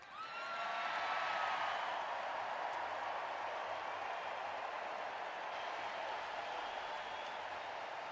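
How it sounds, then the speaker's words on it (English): Sustained applause from an audience at an AA old-timers' panel for Founders Day in Akron, Ohio, a dense, even wash of clapping that swells in over the first second and holds steady, with faint whistles or whoops riding on top. "Now you've got 3 seconds to applaud."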